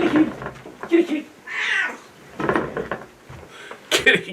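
A cat meows several times in short calls amid household clatter, while a person talks and coos at it between the meows.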